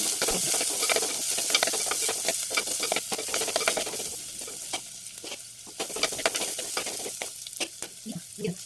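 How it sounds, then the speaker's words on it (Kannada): Chopped green chilies and half an onion frying in a pan for a sambar, with a steady close sizzle and repeated scraping stirs throughout. "ಮೆಣಸಿನ್ಕಾಯಿ ಮತ್ತು ಅರ್ಧ ಈರುಳ್ಳಿ ಕಟ್ ಮಾಡಿ ಇಟ್ಕೋಬೇಕು ಅದನ್ನು ಆ್ಯಡ್ ಮಾಡ್ಕೋತಾ ಇದ್ದೀನಿ ಅದು ಚೆನ್ನಾಗಿ ಹುರ್ಕೋಬೇಕು"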